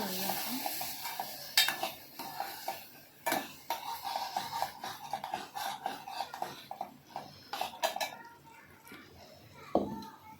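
A spoon stirs fasting-style potato curry with mashed potato in a metal pot, giving repeated scraping clinks and knocks in an irregular rhythm, close and fairly loud, with faint background voices.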